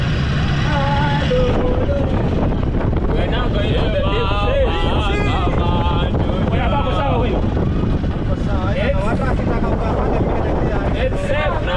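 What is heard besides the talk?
boat engine running at sea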